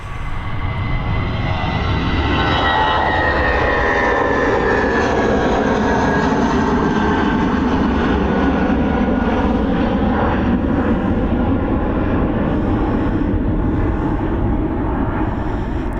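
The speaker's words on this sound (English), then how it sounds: "Here we go, this A319 up and away." An Airbus A319 jet taking off at Dublin Airport, a loud sustained engine roar with shifting tonal whine as it climbs away, continuous and strong throughout.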